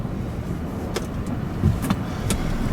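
Road noise and rumble from a 2016 Mazda CX-9 AWD driving up an off-road hill, a continuous low, dense drone with a few faint clicks and rattles over it.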